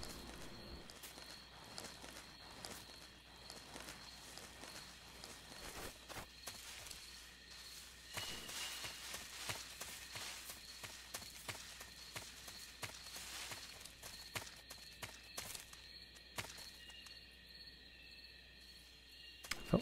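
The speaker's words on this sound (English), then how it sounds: "I heard a footstep or something." Footsteps in Metal Gear Solid 3: Snake Eater tread faintly and irregularly over a steady insect-like chirping jungle ambience, with a few louder scuffs scattered through.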